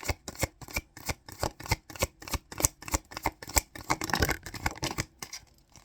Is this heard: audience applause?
no